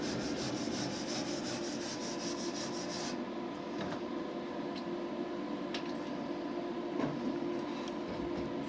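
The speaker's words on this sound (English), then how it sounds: "Just come along with your wire brush again and just clean off the weld again." A wire brush scrubs slag off a fresh weld in close, steady rasping strokes, a dense scratchy texture at first that drops to a quieter rub with occasional sharp scrapes.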